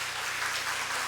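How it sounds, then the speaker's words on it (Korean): Applause from a church congregation during a Sunday service, a dense steady wash of clapping filling the space for the whole moment with no voices heard. "박수 좀 보내주세요."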